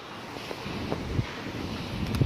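Wind gusts on a windy night, a steady loud rushing roar with occasional buffeting thumps against the microphone.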